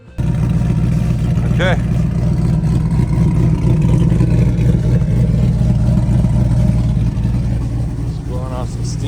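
A 2005 GMC Yukon V8 engine fitted with new JBA shorty headers runs steadily and loudly at close range as it is first fired up after the install, with a brief spoken word over the continuous engine drone.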